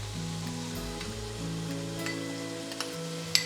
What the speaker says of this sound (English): We have about 2 cloves of garlic that needed to be added in, and we'll saute all of that together.